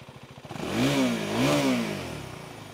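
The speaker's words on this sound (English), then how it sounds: "This is at medium revs" Husqvarna Svartpilen 401 motorcycle engine revved to medium speed twice, rising from a lumpy idle into two smooth swelling revs that fall back, loud and close with no voices.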